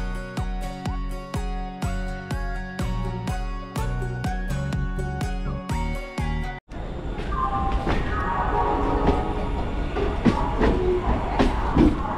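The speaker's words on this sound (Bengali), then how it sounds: "সো আমাদের ট্রেন ঢুকছে, তো প্ল্যাটফর্মে দেখতেই পাচ্ছ" A train rumbles into a station platform, loud and near, with a steady rhythmic clatter of wheels over rail joints, giving way to a broader roaring rush.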